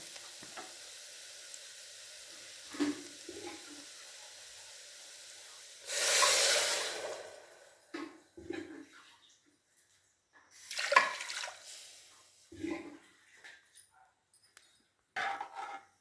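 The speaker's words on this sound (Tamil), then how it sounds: "இப்போ தண்ணி ஊற்றுறேன்" Water splashes into a pot for cooking parboiled rice with cowpeas, in several distinct pours: one strong gush, then a longer burst and shorter trickles between quiet pauses, close by.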